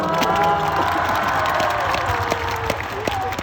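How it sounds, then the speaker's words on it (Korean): A large concert crowd in a stadium claps and cheers, with shouts and scattered whoops over the applause that fades slightly toward the end. "스스로한테도 박수 한번 쳐주세요"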